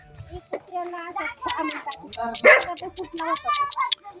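Dogs bark in short bursts in a rural village alongside children's voices and chatter, the barks mixed in with lively talk nearby.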